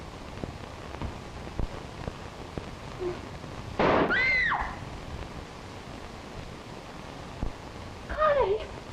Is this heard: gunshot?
yes